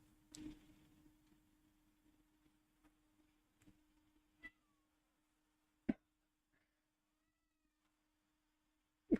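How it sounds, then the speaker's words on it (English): A cat gives a few plaintive, sad meows, one loud cry at the start, then fainter scattered calls and small taps in a quiet room. "What are these sad meows?"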